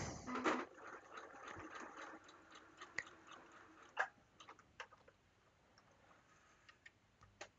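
A sewing machine stitches across a scrap of fabric with a quiet, rapid whirring run, followed by a few scattered clicks and taps as it slows and stops.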